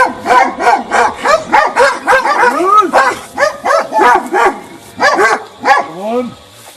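Karaman dogs near Veles bark in a rapid, loud, close series of sharp barks and yelps, nearly continuous with brief gaps, ending in a whining yelp.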